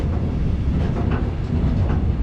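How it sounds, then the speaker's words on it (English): Log train pulling up in a rail yard in Romania, a steady heavy rumble with faint rhythmic clatter of wagons, close and continuous with no voices. "Alright, we got a train."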